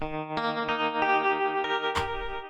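Processed electric guitar tone from a free software plugin, a string of distinct plucked notes and chords with bright harmonic sustain, chorus and distortion coloring, ending in a louder strummed hit that rings briefly before cutting off.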